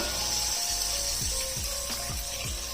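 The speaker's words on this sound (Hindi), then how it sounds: "यहाँ पे देखूँगी मैं इसके अंदर डाल दूँगी अब 4 गिलास के जितना पानी" Water pours steadily into a pot of chicken nihari as a continuous splashing stream, with a few soft knocks and gurgles underneath and no one talking.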